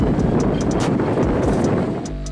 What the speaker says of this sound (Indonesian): terombang-ambing ke kanan dan ke kiri terkena hantaman ombak dan angin kencang tersebut